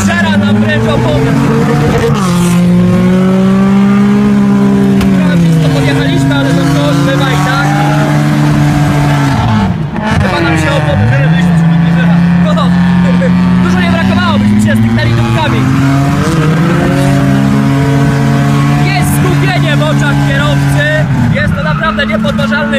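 A BMW drifting and burning rubber on grippy asphalt at a BMW car meet, with a loud engine holding high revs that rise and fall, under continuous talk.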